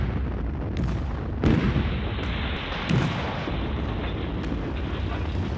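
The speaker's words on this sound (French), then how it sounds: "les canons français arrosent le village de Bu" French artillery cannons shelling a front-line village in 1944: continuous dense rumbling with heavy booms at intervals, loud and unbroken like sustained bombardment.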